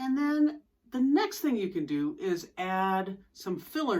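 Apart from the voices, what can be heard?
No distinct noise like a dog, phone or traffic.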